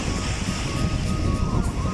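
Steady broadband roar of sea surf in British Columbia, continuous and fairly loud, with wind rumble across the microphone throughout.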